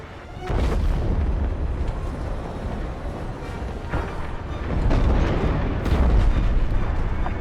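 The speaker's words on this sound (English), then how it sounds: "The frigate is about to explode." A frigate blows apart in Star Wars: Squadrons, a long roaring rumble with heavy low-end booms that surge again near the middle and end, building over seven seconds with no voices.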